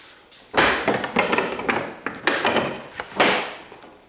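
Utility knife scoring a drywall sheetrock panel along a straight edge: several scraping, rasping strokes with sharp onsets, close and fairly loud, no talking.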